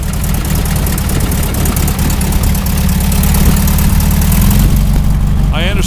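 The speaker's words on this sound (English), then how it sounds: "start it up so we can hear this sweet Beetle run" A 1974 VW Beetle engine with a new carburetor and chrome exhaust idles loudly and close, a steady throbbing air-cooled putter that runs unbroken, with a brief voice near the end.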